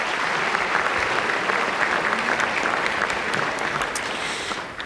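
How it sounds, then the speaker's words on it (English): Audience applause at an evening public program in the American Museum of Natural History, dense continuous clapping that slowly tapers toward the end. "So give yourselves a round of applause."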